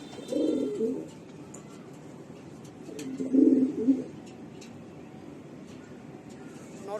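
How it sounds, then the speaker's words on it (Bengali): Pigeons of a German bloodline give two soft bursts of low cooing, each lasting about a second and separated by a short pause, heard fairly close against a quiet background. "এই যে আমি কবুতরটা ছেড়ে রাখছি দেখেন, খাঁচা ভেঙে ফেলবে।"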